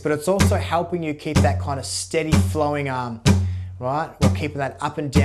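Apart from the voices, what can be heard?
No distinct noise like a dog, phone or traffic.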